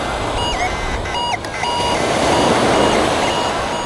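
A TDI pulse induction metal detector sounding its single steady tone, a thin electronic beep that drops out briefly and returns, over a loud broadband rushing background.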